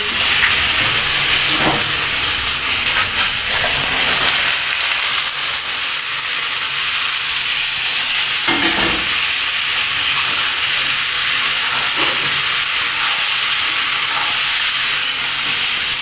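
Bottle gourd leaves from a home garden are cooked in a hot pan, giving a loud, continuous sizzle and hiss with occasional crackles and spatters that carry on unbroken.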